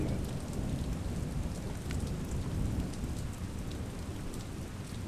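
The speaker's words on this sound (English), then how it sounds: "it's thundering and lightning and storming" Steady, heavy rain pours down during a thunderstorm, a dense, unbroken hiss with a low rumbling undertone that stays loud and even throughout, with no voices.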